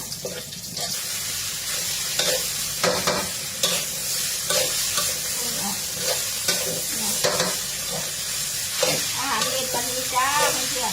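Food is stir-fried in a pan with egg, a steady sizzle broken by repeated scraping and clattering strokes of a spatula, moderately loud and close, with a voice faintly audible in places.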